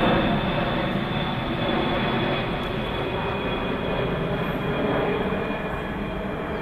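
Steady, loud rumble of airplanes passing overhead above a quiet gravel garden at Kew Gardens in the early morning, a continuous broadband roar that swells slightly and holds for several seconds with no talk.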